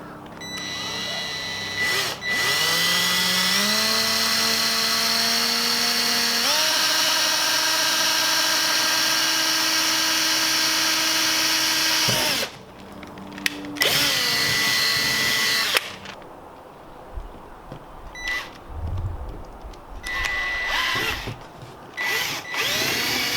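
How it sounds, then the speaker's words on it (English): A power drill whines loudly and continuously while drilling a pilot hole to install a front splitter on a 2017 Honda Civic Si, its pitch rising as it bites in, then stops and restarts in a few shorter bursts. "now we're gonna go ahead and pre-drill"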